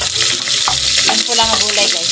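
Garlic sizzling in a pan for a sautéed sardine dish with vegetables, a steady broad frying hiss with a few stirring knocks and scrapes, close and continuous throughout.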